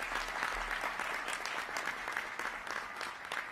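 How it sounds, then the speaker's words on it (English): A round of applause from an audience at a political speech by an Illinois governor, dense and continuous clapping heard alone with no voices over it. "Round of applause for that as well."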